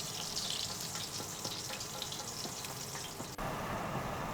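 Potatoes dropped into hot preheated oil for Irish roast potatoes, giving a steady close hiss and crackle of frying with small pops and a brief break near the end.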